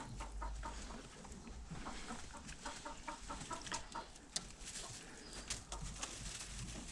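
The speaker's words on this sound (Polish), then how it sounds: "Kura się tam denerwuje." A chicken clucks and squawks agitatedly in short, repeated bursts over a steady low background hum, fairly faint and at some distance.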